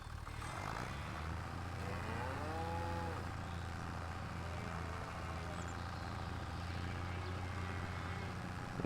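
Cattle low and moo repeatedly in a farming video game, with drawn-out bellowing calls over a steady droning engine-like hum in the background.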